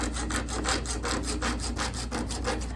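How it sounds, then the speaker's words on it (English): A coping saw cuts through PVC pipe in a steady run of about a dozen rhythmic back-and-forth strokes, close and fairly loud, with no voices. "I think this is a coping saw"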